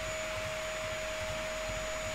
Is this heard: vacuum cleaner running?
yes